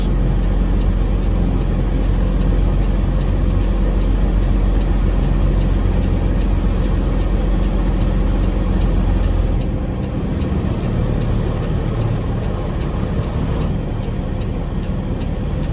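A heavy Peterbilt 389 semi truck diesel engine rumbles steadily up close, a deep low idle that drops slightly partway through as the truck backs in.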